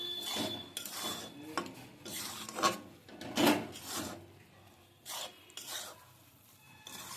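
Motichur laddu ingredients are stirred and mixed in a pan: irregular rasping scrapes and rubbing strokes, some sharper knocks of a utensil against the vessel, close and moderately loud, with no voices.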